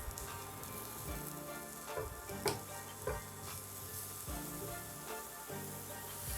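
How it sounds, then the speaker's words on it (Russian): Vegetables frying in a pan, browned dark for a jellied-meat aspic: a steady close sizzle and crackle with occasional soft ticks and stirring scrapes, heard alone. "обжариваем их до темно-коричневого цвета"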